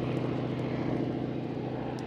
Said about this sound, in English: The way this goes by. That is a big and heavy airplane, folks